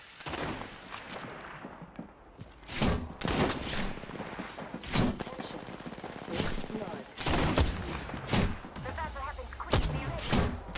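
In an Apex Legends match, bursts of gunfire crack out at intervals, with rapid volleys and heavy single shots, loud and close, while players talk over the action.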